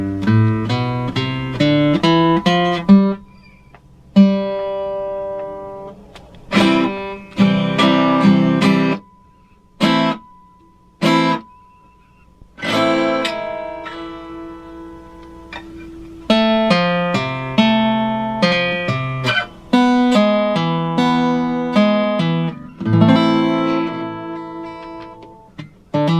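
An electric guitar plays a surf riff, picked note runs and chords with vibrato in phrases broken by brief gaps, loud and close with no talking.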